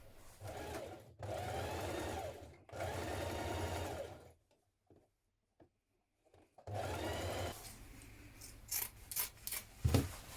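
A sewing machine stitching fabric for a vintage-style coat runs in three steady bursts separated by pauses, followed by softer rustling and handling clicks at close range.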